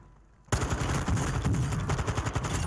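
Gunfire erupts in a Warzone 2 gunfight: a sudden, loud, rapid automatic weapon burst kicks in after a short quiet lead-in and keeps rattling steadily to the end.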